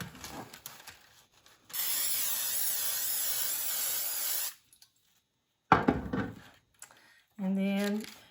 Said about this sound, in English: we're just going to spray our pan that we're going to bake these in